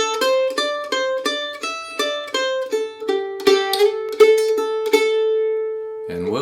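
Mandolin picks out the original lick from a fiddle tune, a quick run of bright plucked notes ringing over a steady low drone, close and clear, ending on a sustained held note.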